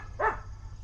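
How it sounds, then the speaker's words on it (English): A dog lets out a single short bark in the background at an outdoor overland expo, brief and moderately loud over a low steady hum. "We got the Ella back in the background barking."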